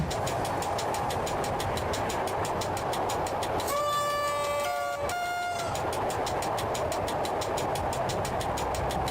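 In the video game Train Driver 2, a train rolls toward Rudnik nad Sanem with a steady rumble and rhythmic wheel clicks over the rail joints, broken midway by a loud, sustained horn blast.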